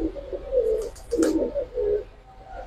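Pigeons offered for sale, including Kaldom and colored breeds, coo in soft low repeated phrases close by, several throaty calls in a short run with faint flutter in between.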